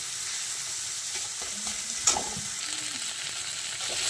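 Spices and salt being stirred and sautéed in a pan for duck egg pulao, a steady soft sizzle with scattered light scraping and one sharper clack near the middle, close by and alone.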